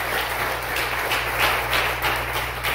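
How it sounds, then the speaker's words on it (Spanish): Steady, dense applause from a church congregation during a Spanish-language worship service, continuous clapping filling the room without pause. "Damos aplausos al Señor"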